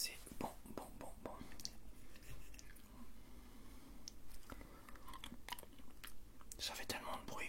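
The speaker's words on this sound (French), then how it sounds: "Ça fait tellement de bruit quand on mange, quand on boit." Someone eats and sips close to the mic, giving soft wet chewing, squishing and small biting sounds with faint drips, while a quiet whisper runs under them.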